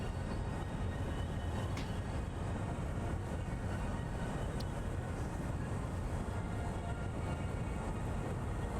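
A train in Satisfactory rolls steadily with a broad, even rumble, holding at a constant level throughout with no clear approach or stop.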